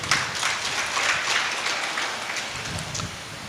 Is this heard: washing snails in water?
no